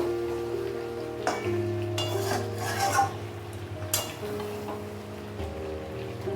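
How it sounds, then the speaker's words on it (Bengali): Bihari mutton being stirred and browned in a pot, with spoon scrapes and clinks against metal coming in short bursts over a steady low sizzle, close and moderately loud. "এবার নাড়িয়ে দেব, খুলে নাড়িয়ে দিলাম ভালো করে।"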